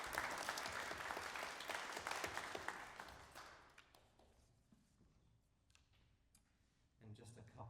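Audience applause at a Chemeketa Jazz Ensemble spring concert, a dense patter of clapping that fades after a few seconds into sparse claps and room noise before a short louder burst near the end.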